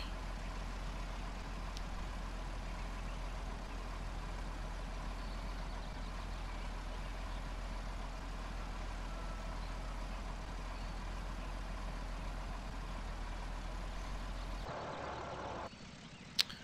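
Truck engine in Farming Simulator 2013, a steady low droning rumble that runs unchanged, ending with a brief shift and a sharp click.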